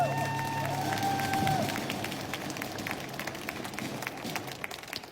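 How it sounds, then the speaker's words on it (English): Crowd applause and cheering at an outdoor pro-Palestine protest, loud at first and then thinning into scattered claps, with faint chatter in the background. "Let's give her a round of applause."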